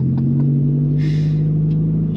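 A VW Golf 6 GTI idles at the Nürburgring before a lap, a steady low engine drone with a faint hiss and a few small knocks, close and constant throughout.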